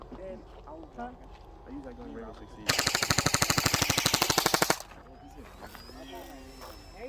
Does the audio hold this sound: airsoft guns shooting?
yes